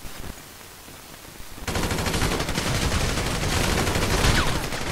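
Gunfire erupts in GTA V, starting as sparse shots before breaking into a loud, sustained burst of rapid automatic fire that continues close and unbroken to the end.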